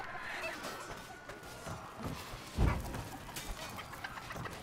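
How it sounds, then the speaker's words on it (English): A chicken clucks faintly amid the noisy clatter of a medieval melee battle in the video game Chivalry 2, with a sudden crash partway through. "I'm grabbing a chicken and I'm gonna set it on fire."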